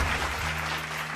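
Audience applause welcomes a singer onto the stage at a Jain bhajan singing competition, a dense, steady patter of clapping that fills the whole short moment without a break.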